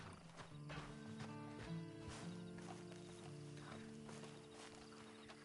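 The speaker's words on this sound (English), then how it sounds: "Then you better get on this horse." Steady clip-clop of a horse's hooves walking along in the video game Red Dead Redemption 2, with a horse snorting and whinnying over a low musical hum.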